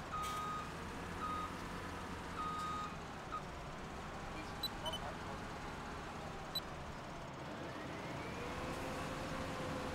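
A truck in Farming Simulator reverses with a steady series of evenly spaced electronic beeps over a low engine rumble. Faint speech runs in the background.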